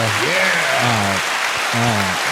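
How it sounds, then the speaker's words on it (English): Sustained, steady clapping from a single person that runs without a break, close and fairly loud, with voices murmuring over it. "John, that might be the longest clap known to me."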